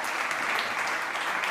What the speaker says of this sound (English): can we please have a huge round of applause for our amazing, wonderful panelists?